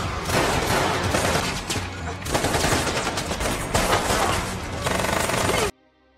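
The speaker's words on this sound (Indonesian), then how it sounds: "Baku tembak pun terjadi hingga Kwon berhasil ditembak dan May ditangkap." Dense, sustained gunfire from a movie shootout scene, rapid automatic bursts overlapping for several seconds, loud and continuous, then cutting off abruptly to near silence.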